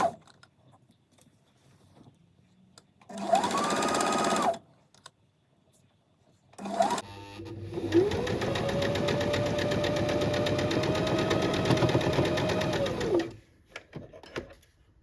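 A sewing machine hems the folded top edge of a skirt in two runs: a short burst of rapid whirring stitching, then after a pause a longer steady run of several seconds, close and clear, with quiet gaps between.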